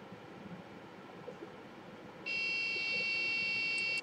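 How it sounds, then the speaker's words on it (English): Alarm buzzer of a laser and Arduino security system starts abruptly after about two seconds of faint background hiss, then sounds a loud, continuous high-pitched electronic tone until it cuts off near the end. "so it is creating a buzzer sound"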